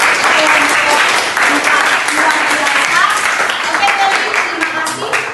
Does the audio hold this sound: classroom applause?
yes